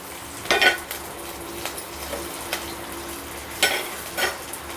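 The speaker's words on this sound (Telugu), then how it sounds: "జీలకర్ర కొంచెం చుట్టుపక్కల ఆడిన తర్వాత కరివేపాకు వేసాను" Cumin seeds and curry leaves sizzle in hot oil for a Telugu ivy gourd curry, a steady low frying hiss broken by a few louder bursts and spoon scrapes against the pan, close and with no voices.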